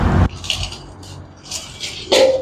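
Spiced mutton is tipped into a handi pot with a handful of sharp metallic clanks and scrapes from the pot and utensil, separated by brief quiet gaps.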